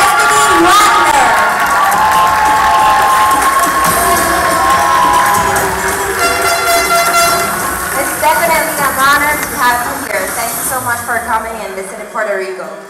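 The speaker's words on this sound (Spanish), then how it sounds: "para quien pedimos un fuerte aplauso para Destiny Wonder" Audience at a beauty pageant cheers and claps loudly throughout, a dense crowd roar with horn-like toots and shouts that slowly thins toward the end.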